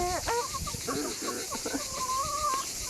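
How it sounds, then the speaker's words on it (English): Chickens cluck and give short rising calls in a close, steady series, with a few brief squawks. A quiet voice speaks intermittently among them. "Come on, say goodbye to the chicken."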